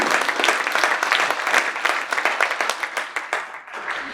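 Townspeople at an emergency town hall in Scranton, Pennsylvania clap loudly together, a dense burst of many hands with some individual claps standing out as the applause thins slightly toward the end.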